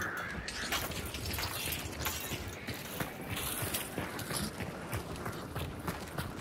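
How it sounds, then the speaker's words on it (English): Crows caw in the Hunt: Showdown video game, with scattered calls over steady rustling ambience and footstep-like clatter throughout, fairly close and moderately loud. "Fucking crows."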